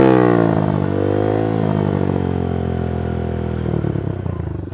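Yamaha YBR 125 motorcycle with a decat Leo Vince exhaust, a loud close engine note that drops from a high rev and then idles with a rough, throbbing rasp.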